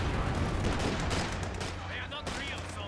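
Machine gun fire rattles in Company of Heroes 2, a dense burst of rapid shots up close and loud, mixed with other battle noise through a large multiplayer match.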